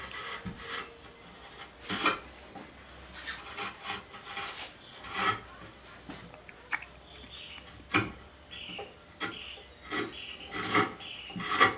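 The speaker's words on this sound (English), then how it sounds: "So now I'm going to chamfer it with my old French knife here." An old French knife chamfers the edge of a wooden chair leg in a quiet workshop, giving short irregular scraping and shaving strokes with small pauses between them, close and fairly soft.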